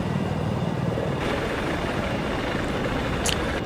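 Helicopter in the video game Battlefield 4, a steady loud rotor thrum and engine whine holding throughout, close and continuous, with a brief high electronic blip near the end and no voices.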